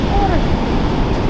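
Sea waves at the shore, a loud continuous wash and roar of surf mixed with wind buffeting the microphone, heard up close with no clear break.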